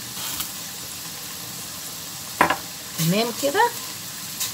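Tomato paste frying in oil in a pan gives a steady, soft sizzle throughout, with a sharp utensil clink midway and someone speaking briefly over it near the end.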